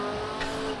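Race car in Project Cars 2 sliding sideways in an oversteer drift through a left-hander, a sustained loud engine drone with a tyre squeal rising briefly mid-slide.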